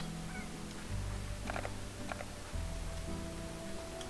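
Hens in the video game Slime Rancher cluck and honk in short, scattered calls over a low, steady game background.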